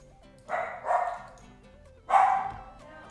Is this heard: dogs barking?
yes